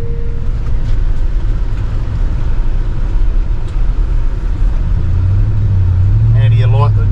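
Steady low engine rumble and road noise from inside a car towing a caravan on a dirt road at 60 to 70 km/h near Boyup Brook, Western Australia, continuous throughout, with a brief faint bird chirp near the end.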